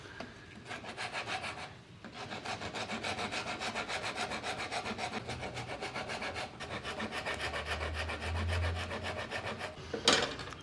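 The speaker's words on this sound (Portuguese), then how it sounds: "Com a grosa eu vou desbastar aqui com cuidado e testando." A hand rasp shapes Itaúba hardwood for a joint in steady back-and-forth strokes, a gritty rhythmic scraping that runs almost continuously with brief pauses, close and fairly quiet.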